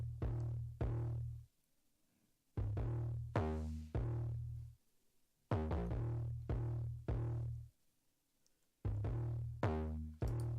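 Distorted 808 bass in a hip-hop beat, deep booming notes repeating in short rhythmic bursts with gritty upper harmonics, paired with crisp percussive hits and brief gaps of near silence between phrases.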